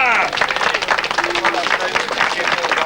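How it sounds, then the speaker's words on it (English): Brief burst of audience applause at a 1994 Santa Pod drag racing season opener, close clapping mixed with crowd noise and voices. "Would you give him a nice big round of applause?"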